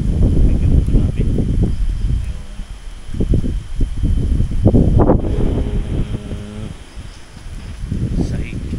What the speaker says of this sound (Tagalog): Kaya maingay kung umampas yung hangin.